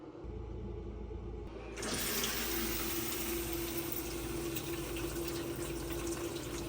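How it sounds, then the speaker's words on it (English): Shower running inside a super high roof ProMaster camper van, a steady hiss of water that starts softly then swells louder and continues evenly, close by with no talking. "While Joe reads, I am going to take a shower."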